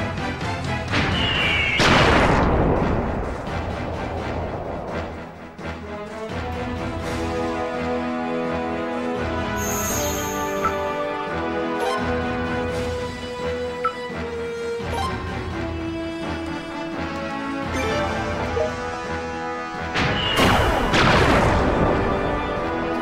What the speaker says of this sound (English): Fire cannons!